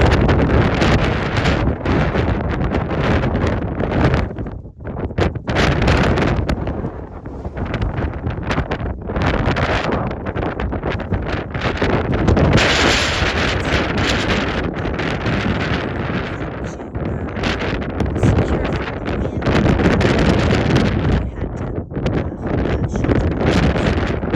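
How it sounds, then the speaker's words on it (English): Strong wind on the snowy summit of Wheeler Peak, Nevada, buffets the microphone in loud, roaring gusts, rising and falling with brief lulls but never letting up. "A little windy."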